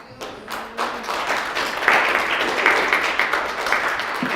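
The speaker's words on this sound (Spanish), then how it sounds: "Damos un aplauso al Señor, hermano." A church congregation claps in praise to the Lord after a sermon on temperance. The clapping starts thin and quickly swells into steady, fairly loud applause with a few sharper taps.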